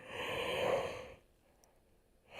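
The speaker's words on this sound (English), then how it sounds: "We have a yawn." A single audible yawn, a breathy drawn-out exhale lasting about a second, close and fairly quiet, followed by near silence and then a soft breath.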